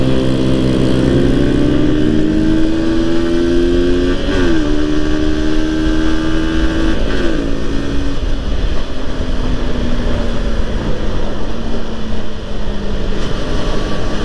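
A 150cc automatic motorcycle with a standard exhaust revs loudly and close up. The engine drone climbs and dips in pitch through several throttle blips, then settles into a steadier, slowly falling tone.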